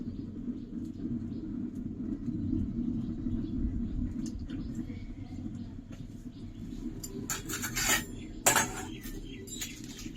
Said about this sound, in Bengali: আঁকাটা ধরে নিয়ে ধরে নিয়েছি কড়াইটা বসিয়ে দেবো